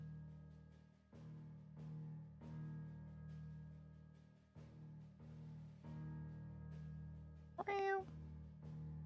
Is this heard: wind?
no